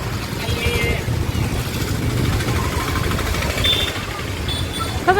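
Heavy street traffic at Limda Chowk, idling and passing motorbike and car engines forming a continuous low rumble, with a couple of faint horn-like tones and a brief louder burst at the end.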